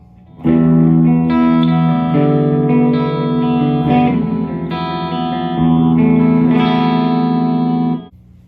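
Electric guitar chords from a Schecter E1 Apocalypse in humbucker mode ring out through a Peavey 6505 amp with mild crunchy distortion and some reverb, sustained strums then fading to silence.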